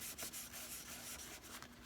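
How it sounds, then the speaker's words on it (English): A paper towel wiped across a dry decorated Easter egg, soft close rubbing strokes in a quick irregular rhythm, quiet and alone. "I'm going to wipe it with a paper towel."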